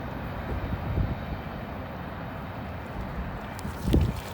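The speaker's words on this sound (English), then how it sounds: "All those cars pulled by one engine, empty grain train" A long empty grain train hauled by a single locomotive rumbles past steadily, a low continuous roar of rolling cars with a couple of heavier thumps, moderately loud and without voices.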